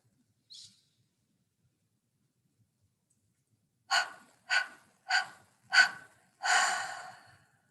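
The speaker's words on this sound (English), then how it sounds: "we're going to stagger the breath with the breath of fire" Staggered breath of fire yogic breathing: after one short breath, a series of five sharp, forceful exhalations come in a quick, steady rhythm, the last one drawn out, close and clear against near silence.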